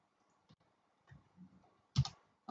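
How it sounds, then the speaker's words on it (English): Someone types a command on a computer keyboard, a few faint, sparse key clicks followed by a sharper, louder keystroke near the end. "We do this by typing Nmap and the target IP address."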